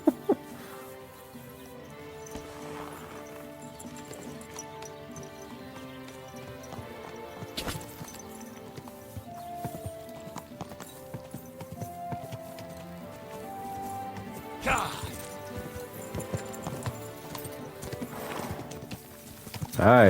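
A horse's hooves clip-clop steadily in the medieval video game Kingdom Come: Deliverance II, quiet under a melodic game soundtrack, with an occasional louder clatter.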